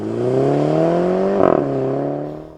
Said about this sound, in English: brings a delightful backfiring burble from the exhaust system whenever the gas pedal is lifted